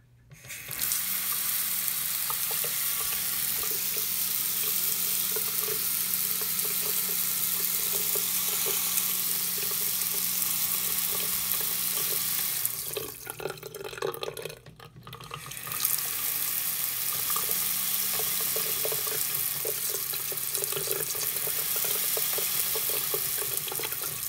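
Water runs steadily from a kitchen faucet fitted with a self-powered LED aerator, a continuous close hiss that briefly drops away mid-stream before resuming.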